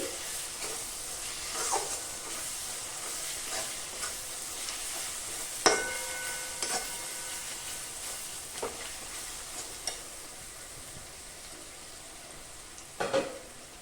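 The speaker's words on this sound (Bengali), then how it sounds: "এবার এখানে তেলের ওপর এই পেঁয়াজের ওপর একটু লাল লঙ্কার গুঁড়ো আর হলুদ গুঁড়ো দিয়ে দিলাম" Chili and turmeric powders fall onto onions frying in oil for a mutton curry, giving a soft continuous sizzle with intermittent scraping stir strokes and small clinks, fairly quiet and close.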